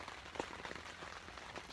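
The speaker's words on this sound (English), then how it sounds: "You can hear it raining." Rain pattering on a tent during cold winter camping in East Ohio, a steady close patter of drops with a few sharper taps, no talking.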